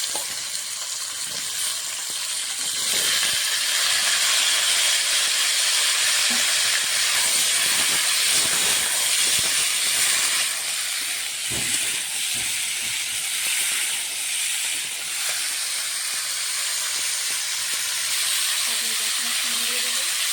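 Whole cumin, cut potatoes and vegetable stalks dropped into hot oil, giving a loud, steady hissing sizzle throughout, with a voice talking faintly underneath.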